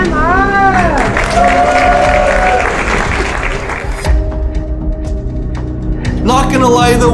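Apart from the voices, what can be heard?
crowd applauding and cheering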